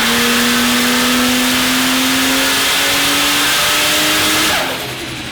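A turbocharged Barra-powered Holden on a roller dyno revs hard under boost around 25 psi, a loud, sustained engine roar with rising pitch that holds for several seconds, then drops sharply as the throttle closes near the end.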